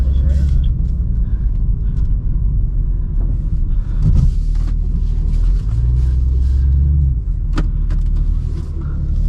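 A 2024 BMW M2 drifts on a track at a BMW performance driving school, its engine giving a loud, steady droning rumble close in the cabin, with people talking over it.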